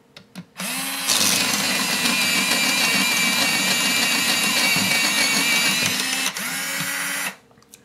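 An electric art pencil sharpener grinds a pencil in one loud, continuous motor whir lasting about six seconds, with a brief dip near the end before it stops, preceded by a short click and hum.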